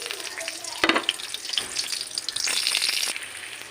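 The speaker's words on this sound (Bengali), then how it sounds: "কড়াইতে তেল নিয়েছি, নিয়ে এবার একে আমি একটু কালো জিরে আর একটু লঙ্কা দিয়ে দেবো," Nigella seeds and green chilli sizzling in hot oil in a wok, a steady close crackle with a sharp burst of spatter near the start and brief stirring clatter, no talk.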